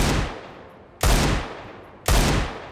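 Three powerful Desert Eagle pistol shots in Hytale, evenly spaced about a second apart, each a sharp loud crack trailing into a long booming decay.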